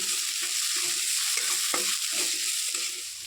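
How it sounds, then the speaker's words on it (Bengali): Onions sizzle in hot oil, a bright steady frying hiss broken by scraping stirs of a spatula in the pan. "ভালো করে নাড়াচাড়া করে আমি পেঁয়াজটা একটু ভেজে নেব"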